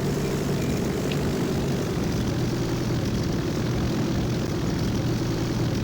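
Propeller fighter plane engine in Hellcats Over the Pacific, a loud continuous droning roar with a steady low throb that holds unchanged throughout.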